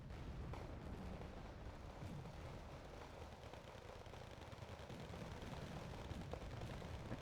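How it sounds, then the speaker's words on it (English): Rocket artillery firing in Wargame: Red Dragon, a dense, continuous rumble of launches and distant blasts with no clear pauses, steady and moderately loud throughout. "Rocket artillery doing its thing."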